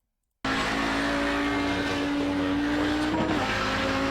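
Audi 90 GTO race car in a racing game at Spa, its engine holding a steady loud drone with tire noise, then a brief shift or lift near the end before the note carries on, continuous and close.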